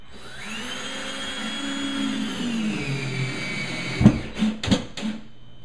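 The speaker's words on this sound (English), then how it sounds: "where I put those marks, I can actually put some of these drywall screws" A power driver sinks drywall screws during a bathroom remodel where a medicine cabinet is being removed: a steady, fairly loud motor whine runs for several seconds, then a few sharp bursts and clunks as the screws seat.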